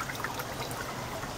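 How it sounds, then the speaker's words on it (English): Spring water bubbles up out of limestone formations at the headwaters of the Comal River. A steady, close trickling and gurgling wash fills the whole stretch without pauses or talk. "Here you can just see the water bubbling out of the limestone formations here at the headwaters of the Comal River"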